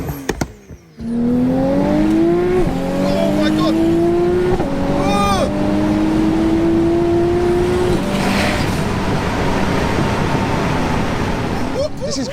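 A tuned 900bhp 2.0-litre Mitsubishi Evo 8 engine revs hard on boost, its pitch climbing in several loud, sustained pulls with brief breaks between, close up and clear over a rough exhaust roar.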